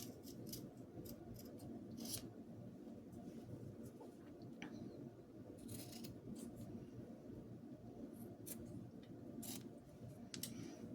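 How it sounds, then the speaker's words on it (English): Scissors snipping through fabric to shape cloth doll ears, a series of close, faint crisp cuts and rustling against a quiet background. "Then we're going to cut down the center."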